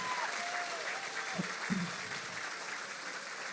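Audience at a charity gala applauding a donor, a steady, dense round of clapping filling the room, with a brief voice over it.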